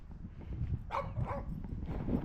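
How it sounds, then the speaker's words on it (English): Dogs bark a few times at a distance during an outdoor walk in early spring with light snow on the ground, the barks rising over a steady rumble of wind and footsteps. "So we have the angry dogs."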